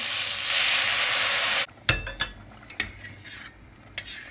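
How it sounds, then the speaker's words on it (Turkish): Boiling water poured slowly onto toasted erişte noodles for a cheese noodle dish gives a loud, steady hiss for about a second and a half, then cuts off, followed by a few light clinks of utensils in the pan. "Su kaynattım. Muhakkak suyu kaynatın. Soğuk su eklemeyiniz. Yavaş yavaş vereceğim."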